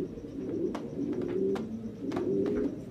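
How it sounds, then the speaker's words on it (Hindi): Sialkoti pigeons, a breed from Sialkot, Pakistan, coo in low rolling phrases close by, repeating in a steady rhythm with a few sharp clicks and flutters in between. "आज की ये वीडियो सियालकोटी कबूतर, जो सियालकोट पाकिस्तान में"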